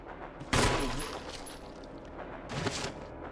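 Two sharp gunshots from a handgun in the video game Resident Evil 0, the first loud and crisp with a brief echoing tail, the second softer about two seconds later, set against a quiet low game ambience.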